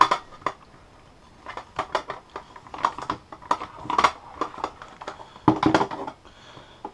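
Metal pots and a pan from an Optimus Crux camping stove set clatter and clink as they are unpacked, with a run of close, sharp knocks and scrapes and no talk.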